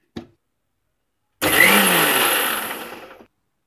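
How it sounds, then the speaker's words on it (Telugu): A kitchen mixer grinder blends tomato chutney for rice, idli and dosa, starting abruptly after a brief knock and whirring loudly and steadily for nearly two seconds before winding down and stopping. "ఇప్పుడు మిక్సీ చేసుకుందామండి."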